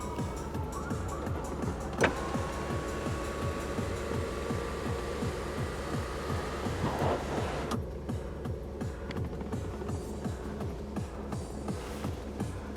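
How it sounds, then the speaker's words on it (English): The moonroof of a 2018 Volvo XC60 T6 opening, a thin steady motor whine for several seconds that ends with a soft clunk, over a low cabin hum. "The front portion also does open like a regular moonroof."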